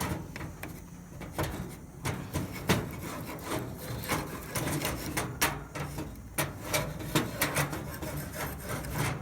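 A metal spatula scrapes a hot griddle clean before hot dogs go on, giving a steady run of close, rough rasping strokes with sharp scratchy accents, alone without talk.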